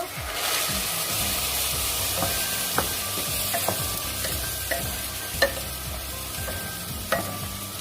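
Rice for Jeju-style abalone porridge stir-fried in a pot, with small splashes of the reserved rice-soaking water, giving a steady close sizzle and scraping stirs with a few sharper clinks and spoon knocks, no talk.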